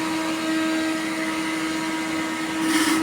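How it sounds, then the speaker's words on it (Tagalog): A vacuum cleaner runs steadily with a strong, constant motor drone as its suction is tested after cleaning its hose and nozzle, rising briefly into a louder hiss near the end; no one speaks. "ay titesting lang natin ito ng silupin kung humihigop ang kanyang suction."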